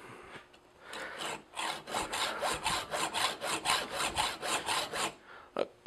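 A brand new hacksaw blade cuts through a workpiece in steady back-and-forth strokes, about a dozen rhythmic rasping passes, close and fairly loud, with no talking over it.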